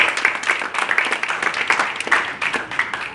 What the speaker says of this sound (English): please give Edward Mothibi a big round of applause